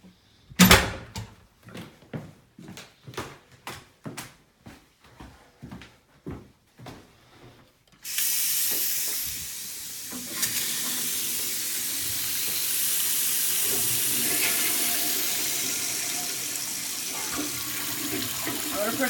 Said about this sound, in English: Let me run the water upstairs real fast